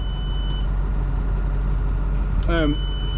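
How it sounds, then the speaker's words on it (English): Back-door-open alarm on a 2011 International 3200 shuttle bus converted to an RV, chirping in a short rising-falling burst near the end over steady engine idle, with a brief beep earlier and a voice talking. "you can probably hear the alarm"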